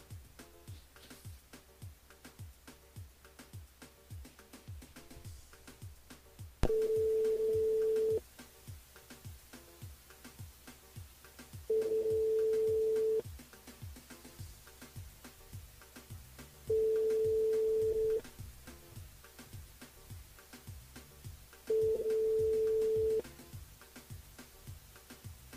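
Ringing telephone line on a radio call-in show, four evenly spaced long ring tones sounding clearly over a soft steady rhythmic background beat.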